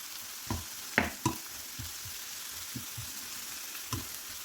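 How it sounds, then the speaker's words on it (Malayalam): Onions sauté with a spoonful of salt in a pan for egg curry, a soft, low sizzle broken by several sharp spatula taps and scrapes, with no talk. "ഉള്ളി ഒന്ന് നല്ലതുപോലെ വഴന്നു വരുവാൻ വേണ്ടി നമുക്കൊരു ടീസ്പൂൺ ഉപ്പിട്ട് കൊടുക്കാം"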